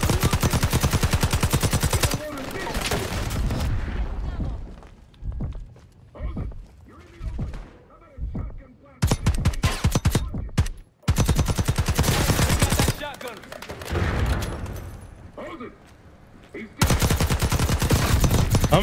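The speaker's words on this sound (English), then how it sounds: "I'm shooting him in the dick." Video game gunfire from Call of Duty Black Ops 6: dense automatic bursts and single shots ring out loud and close, with brief gaps, under occasional talk.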